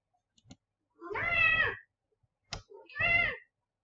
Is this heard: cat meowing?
yes